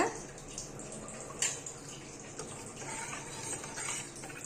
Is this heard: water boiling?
yes